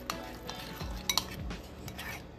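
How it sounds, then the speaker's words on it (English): Chipotle sauce ingredients with salt and lime get mixed together in a bowl, a few quiet clinks and scrapes of a utensil against the dish over a short stretch. "So now we're just gonna mix this all together."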